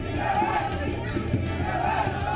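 A large crowd gathers at a by-election campaign outreach event in Madhya Pradesh, a dense continuous murmur of many voices with occasional raised shouts, steady and fairly loud throughout.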